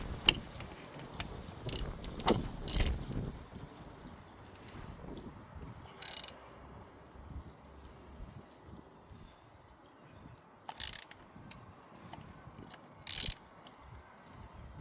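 A ratchet loosens and tightens a fitting on the engine of a Vauxhall Corsa D 1.4 during a service, giving short bursts of clicking separated by quiet stretches, close and faint, with no talk.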